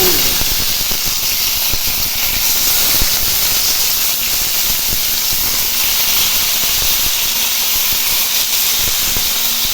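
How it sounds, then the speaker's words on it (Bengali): Eggplant and potato paturi rolls fry slowly in shallow oil, giving a steady, even hiss and sizzle that runs unbroken and fairly loud from start to finish. "তেল দিয়ে দিয়েছি একটু এবার ধীরে ধীরে এগুলো ভেজে"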